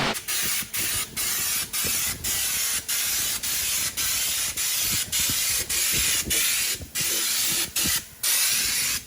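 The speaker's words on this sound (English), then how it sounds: "we're going to prep the bottom side and do our black Raptor liner on the underside of the cab" Black Raptor bed liner is sprayed onto the underside of a truck cab in loud, close hissing bursts, each lasting about half a second to a second, cut by brief gaps as the spray gun trigger is released.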